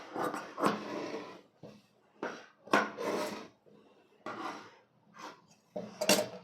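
Scissors cutting a blouse fabric strip for a close-neck, front V-neck blouse: a series of crisp snipping and sliding cuts in short bursts with brief pauses, close and fairly loud, with no voice.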